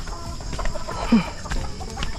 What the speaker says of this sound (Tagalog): Mga manok ni Kuya Ogie.